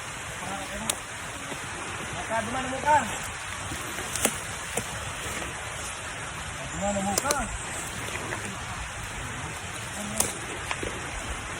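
Steady rain falls outdoors in a dense, even hiss, with a few louder drops and a person talking now and then over it.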